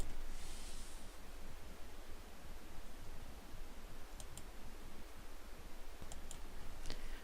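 A few faint, sharp mouse clicks land near the end, spaced apart over a quiet, hissy room background while a Google Cloud storage bucket is being created.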